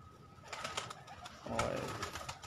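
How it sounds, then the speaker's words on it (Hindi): Pigeons let out of a rooftop loft after days shut in, soft bird calls and fluttery sounds at moderate distance, with a brief flurry of wingbeats and coos midway. "आज थोड़ा सा टाइम ज़रा फ्री था तो कबूतर खोल के बैठे हुए हैं"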